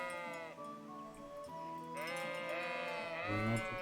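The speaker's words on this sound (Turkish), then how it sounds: "Koyunlar çok tatlıymış bu arada." Sheep in the video game Kingdom Come bleat in several drawn-out, wavering calls that overlap and follow one another closely, sounding near and clear with no voices over them.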